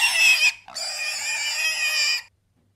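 Two loud, harsh pig squeals close up: a short one, a brief pause, then a longer drawn-out squeal.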